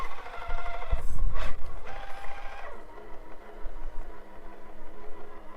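A TF2 RC crawler rig's small electric motor whines and strains as the truck climbs over a trail obstacle, a continuous buzzing drone with a louder rough burst partway through before settling to a quieter hum.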